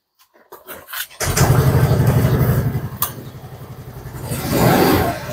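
A blue second-hand motorcycle at a used bike showroom starts after a few clicks, then settles into a loud, close, rhythmic idle thump and revs up again toward the end.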